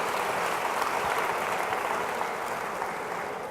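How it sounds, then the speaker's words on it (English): Audience applause at a film-sector celebration event in Ontario, a steady wash of clapping from a crowd that holds evenly for a few seconds and eases slightly at the end. "let's give them a big round of applause"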